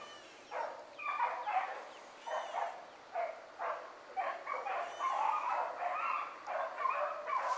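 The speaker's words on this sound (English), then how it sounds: "That's three puppies right there running." Several Blackcreek hound puppies bay and yip in repeated bursts while running, high-pitched and excited, heard at a moderate distance.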